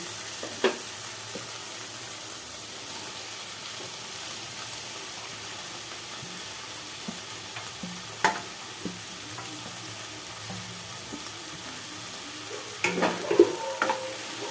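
Okra, fried potato and chickpeas cook in a pan under a constant soft sizzle, with a few scattered stirring clinks and a cluster of louder spatula scrapes near the end.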